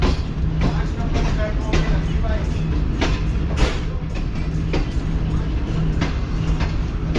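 ZCU 20 locomotive number 6427 rolling toward a station, a steady close rumble broken by regular clacking wheel beats about once a second over the rail joints.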